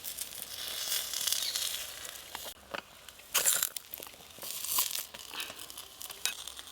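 Semolina and raw potato pancake frying in a pan and being flipped over, giving a quiet, crackling sizzle with a few sharper bursts and rustles, with no talking.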